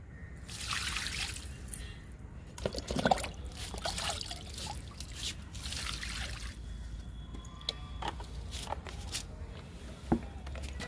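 Liquid fertilizer is poured onto potted tomato plants. Soft trickling and pouring come in several separate bursts, with drips and light knocks between them and a faint voice in places.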